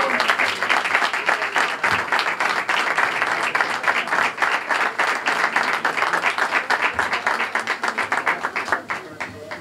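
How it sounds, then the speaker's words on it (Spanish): Crowd applause at a Romería pilgrimage festival for the Virgin of Guadalupe: many hands clapping in a quick, crackling rhythm that holds steady for several seconds and thins slightly near the end, with voices mixed underneath. "Un aplauso."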